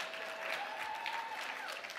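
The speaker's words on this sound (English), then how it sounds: "Please give one more round of applause for our bloggers" An audience at a cooking demonstration claps steadily, a soft, even patter of many hands with a faint tonal ring running through it.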